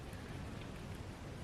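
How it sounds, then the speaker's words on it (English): Rain falling outdoors at a bushcraft camp beside a firewood shed, a faint steady wash of patter on surfaces that continues evenly throughout with no talk. "the rain has just been stop and go and stop and go"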